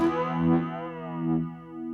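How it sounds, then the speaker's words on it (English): A sustained electric guitar tone run through a Pearl FG-01 flanger pedal with heavy feedback, sweeping and metallic with a thin, tinny, resonant ringing. "as soon as I put the feedback up, we start to get sort of reverb, very tinny sound"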